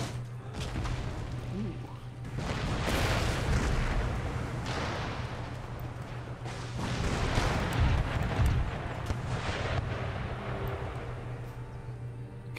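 A battlefield in Empire Total War erupts with rolling artillery booms and crackling musket volleys, loud and sustained in two heavy waves, with someone talking over the din.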